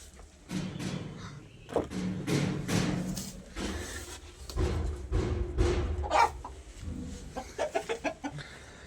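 Egg-laying hens cluck and squawk nearby in a busy, irregular chorus, with a few soft thumps and a run of quick clucks at the end.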